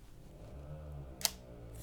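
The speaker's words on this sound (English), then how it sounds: "Very quiet shutter sound." A single soft, crisp click comes from the shutter of an old Zorki rangefinder film camera, a Leica copy. It is very quiet and brief against low background hum, with no talking.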